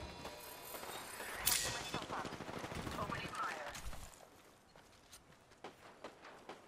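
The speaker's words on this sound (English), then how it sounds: "Oh, they're getting shot in the back." Gunfire in the Apex Legends video game: bursts of rapid distant shots with a sharp crack early on, then scattered single pops fading lower, mixed with game effects and quiet background voices.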